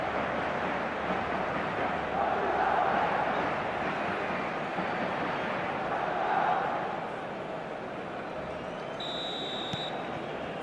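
Stadium crowd in a Barcelona versus Real Madrid match in eFootball 2025, a steady roar of cheering that swells twice before easing slightly, with a brief high tone near the end.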